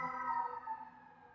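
An emergency vehicle siren wails outside during a live yoga session, a brief faint sustained tone that drifts slightly downward as it passes at a distance.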